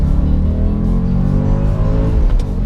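A 2006 Audi RS4 B7 with its naturally aspirated V8 revs loud and close, a steady rich engine note rising in pitch for nearly three seconds and easing off at the end, with no voices.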